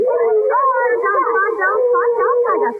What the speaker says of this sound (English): Then suddenly the dog was piling out of the house.